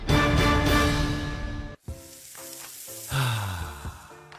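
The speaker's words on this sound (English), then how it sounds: "That's the sound of James adding long-lasting Gain scent boosters to his laundry this morning" A rushing, sizzling pour of small Gain scent booster beads into laundry gives way to a brief pause, then scattered rattling and a swelling whoosh.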